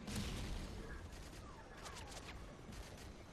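Type 95 rifle firing in Modern Warfare 3 on the Interchange map, a dense stream of rapid shots mixed with other battle noise, loud and continuous throughout.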